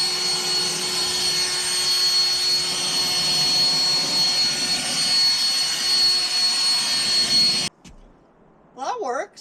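A Saker mini blower runs loud and steady with a high whine and broad rushing air, then cuts off abruptly near the end, followed by a brief voice.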